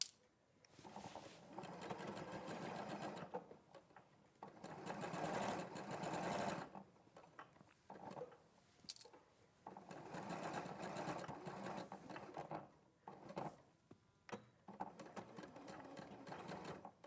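A sewing machine stitches a seam from a snip to a tailor tack in bursts, several runs of steady whirring and needle chatter separated by short pauses, moderately close and quiet.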